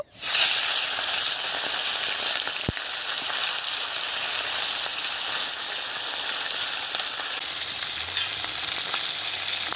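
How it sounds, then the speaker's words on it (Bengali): Large sea fish frying in hot oil in a pan over a village stove, a loud, steady, close crackling sizzle that starts abruptly and holds throughout with a sharp pop early on. "তেল গরম হয়ে গেছে মাছগুলো ভেজে নেব"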